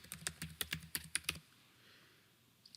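Typing on a computer keyboard while editing values in a business software grid: about ten quick, close key clicks in a burst, then quiet room tone.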